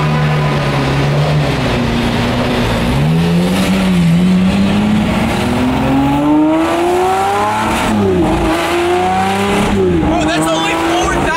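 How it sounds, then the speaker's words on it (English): Lamborghini with a fully straight-piped exhaust revving on a cold start, not in sport mode, loud and close: a steady rumbling idle climbs through several rising revs to about 4,000 RPM, with people talking over it. "This car also has fully straight piped exhaust. Ooh. Yeah. That's why it's so loud."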